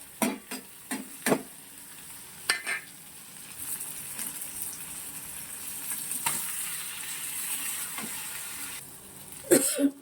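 A whole fish coated in ginger-garlic paste fries in a pan, a steady close sizzle broken by sharp crackling pops and clatters of handling, with no talk.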